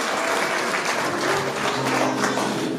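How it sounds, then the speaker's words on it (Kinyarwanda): A wedding congregation at a church ceremony applauding, a dense and steady wash of clapping from many hands that holds at full loudness throughout, close and sustained. "Ndagira ngo muhe Imana amashyi"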